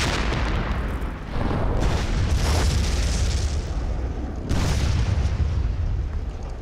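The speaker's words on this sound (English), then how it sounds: "The defenders blow the bridge." A bridge is blown up during a Vietnam War battle, heard as a loud, sustained rumbling blast. The roar swells again in a second surge, dense and overwhelming, with no talk over it.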